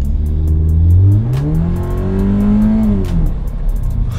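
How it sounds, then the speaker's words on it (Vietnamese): A Scion FR-S sports car revs hard and accelerates close by. The engine note climbs, dips briefly, then rises again in one loud continuous pull. "cái xe này là một cái xe mà khi đạp ga vô là các bạn sẽ bị sốc"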